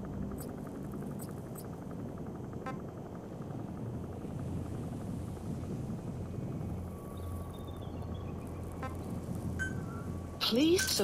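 Helicopter in Metal Gear Solid 5 arriving, a steady low rotor drone that stays level and fairly loud throughout, with faint game tones over it and a louder burst near the end.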